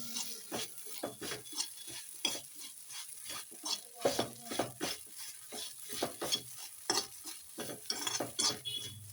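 Garam masala is stirred into puff filling in a pan, a spoon scraping in quick repeated strokes with a light sizzle underneath, close and without speech.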